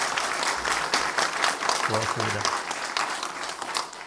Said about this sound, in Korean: 박수 쳐도 돼요.